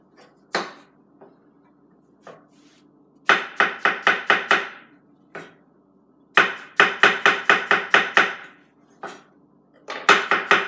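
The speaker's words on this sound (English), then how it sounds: "Slicing strawberries with Casey." A knife cuts through fresh strawberries on a board in quick bursts of crisp chops, with a few isolated strokes first and then runs of five or six close, fairly loud cuts.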